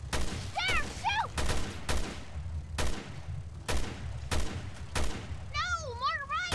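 Gunfire in the Resident Evil: Revelations 2 video game, loud sharp shots fired one at a time at uneven intervals, with eerie warbling creature cries between them.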